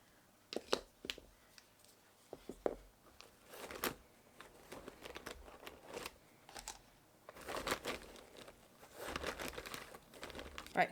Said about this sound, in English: let me just get a few things out of this pencil case so I can move it